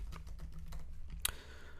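Quick, light taps on a computer keyboard in a quiet room, a short run of irregular keystrokes ending in one sharper key press, faint and close.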